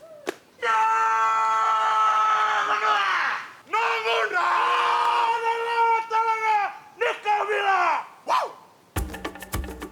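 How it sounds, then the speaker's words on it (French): People shouting loud, drawn-out cries at a fire-walking ceremony on hot stones, several long wailing calls in succession, close and strong, broken by brief pauses and ending with a sharp burst of noise. "Ils arrivent de nulle part, ils poussent des cris, ça te scotche un petit peu."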